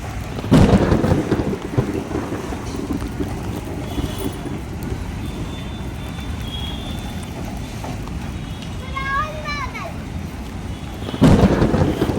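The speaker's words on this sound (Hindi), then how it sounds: "अब आई है आंधी।" A village thunderstorm with gusting wind and heavy rain: a steady roar of rain and wind, deep thunder rumbles near the start and end, and a voice speaking briefly underneath.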